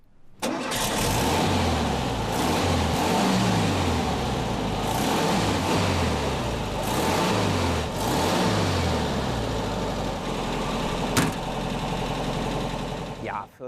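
A 1973 VW Beetle 1303 convertible's rear-mounted four-cylinder boxer engine runs close by with a steady, throaty, loping idle and slight swells in revs, ending in a brief clunk; faint voices may sit underneath.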